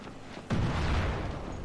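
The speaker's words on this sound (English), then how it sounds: "Oh shit. Explosions, amazing." A sudden deep explosion boom from the zombie video game Dying Light, preceded by quiet ambience, with a heavy low rumble that lingers and slowly decays.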